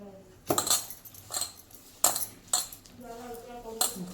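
Leftover dal and flour are mixed in a bowl, with a spoon clinking sharply against the bowl several times at irregular intervals, and faint talk between the strokes.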